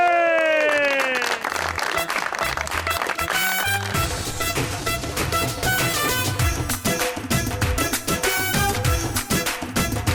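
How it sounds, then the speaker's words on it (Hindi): Studio audience on the Pakistani talk show Super Over claps in a dense, sustained round of applause, mixed with loud show music playing underneath for the full stretch. "आपकी भरपूर तालियों में प्लीज वेलकम हम सबकी फेवरेट और आपकी भी फेवरेट ईमान से।"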